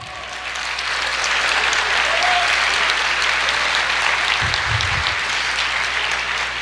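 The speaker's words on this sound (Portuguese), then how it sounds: "Glória a Deus, aplauda o Senhor" Worshippers at a Brazilian church service break into loud, sustained applause, a thick crowd clapping that swells and holds steady, with a faint voice briefly under it.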